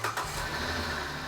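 A car engine catches and settles into a steady, fairly loud idle after a belt tensioner repair, running smoothly without pauses.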